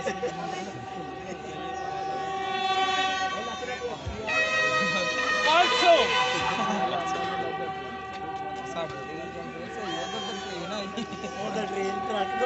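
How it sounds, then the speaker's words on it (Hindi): Train arriving at the Wagah border between Pakistan and India: a horn-like tonal drone with steady rumble runs through the whole stretch, rising and swelling midway, while people talk over it. "क्या तो ट्रेन आ गई।"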